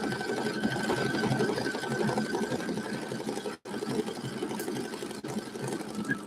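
An embroidery machine stitches out a design with a dense, continuous mechanical chatter of rapid needle strokes, stopping sharply once for a moment partway through and then running on steadily and close.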